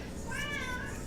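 A cat gives a single drawn-out meow, rising then falling, close and clear over a steady background hiss.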